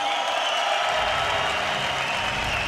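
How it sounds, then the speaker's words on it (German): Boxing crowd applauding after a fight: steady, loud clapping from a large audience, sustained evenly through the whole stretch with faint crowd murmur beneath. "das Publikum quittiert mit Applaus"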